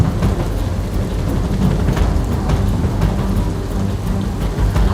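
Heavy monsoon rain during flooding in Gujarat pours in a loud, steady broadband roar with a low rumble underneath, unbroken and close.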